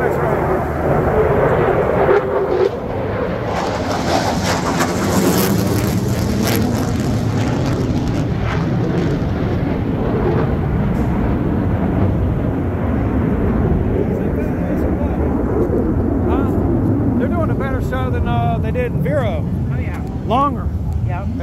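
Loud, broad jet-engine roar from Blue Angels jets flying overhead fills the air and slowly fades, with people talking over it near the end.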